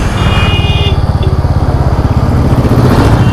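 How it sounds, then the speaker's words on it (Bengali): A Bajaj Pulsar N160 motorcycle riding on a road under a cloudy sky, its engine running loud and steady with a fast, even throb close to the microphone. "তো বাইকটা চালাবো আপাতত, দেখি কত দূর যাওয়া যায়।"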